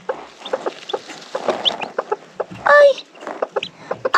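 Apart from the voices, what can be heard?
newly hatched chicks cheeping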